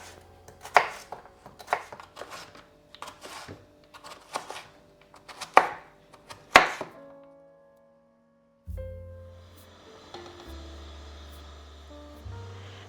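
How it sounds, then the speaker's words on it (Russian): A knife finely dices peeled beetroot on a board in a rapid run of crisp, close chops lasting about seven seconds, followed by a low hum and a brief clatter. "Буряк очищаю от кожицы и нарезаю мелким-мелким кубиком."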